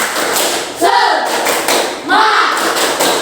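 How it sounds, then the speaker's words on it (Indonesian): Primary school class performs a rhythmic spirit clap, two loud bursts of hands striking in patterned beats with brief voiced shouts among them, close and energetic in a classroom. "Coba tepuk semangat."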